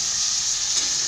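Meat frying in oil in a pan for chtitha lham, a steady, loud, close sizzle and hiss that holds without a break.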